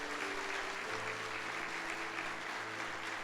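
A church congregation at a Sunday service applauds in a steady, dense wash of clapping that continues throughout, with a faint sustained tone underneath.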